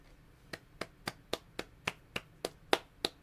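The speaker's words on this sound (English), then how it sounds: "That's my golf clap for that." A single person gives a slow, quiet golf clap: ten light, evenly spaced claps, about one every quarter second, sharp and close with nothing else around them.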